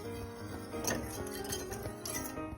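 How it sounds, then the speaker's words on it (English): A whisk clinks and scrapes steadily against a bowl as a sugar mixture for butterfly pea flower lemonade is stirred, a quiet, close, rhythmic tapping with no talking. "gonna mix that together, I think, with a whisk"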